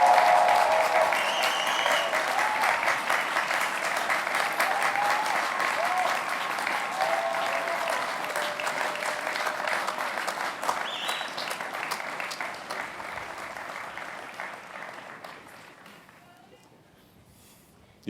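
Sustained applause from a large commencement audience fills the space at a steady roar, gradually thinning and fading away toward the end.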